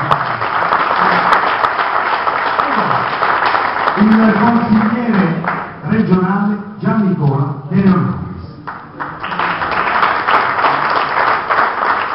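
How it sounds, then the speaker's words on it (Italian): Applause from a theatre audience rises and falls while a person talks over it, the clapping continuing around the voice. "Facciamogli ancora un grande applauso."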